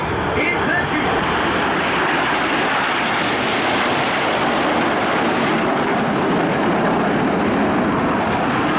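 A single Red Arrows jet roars past loudly at the Cleethorpes air show, a sustained broad rumble that swells and fades slightly over several seconds.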